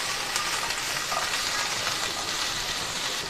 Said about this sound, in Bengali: আমি এই সমস্ত উপকরণগুলোকে কিছুক্ষণ ফ্রাই করে নেব।